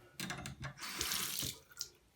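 A tap runs water over a brush and a Game Boy Advance cartridge being scrubbed, a close hiss of splashing stream with shifting spatter for about two seconds, no voices.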